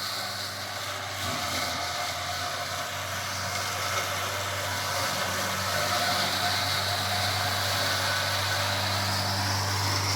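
The motor of a sprayer apparatus runs with a steady, loud, continuous droning hum that holds at a constant level throughout.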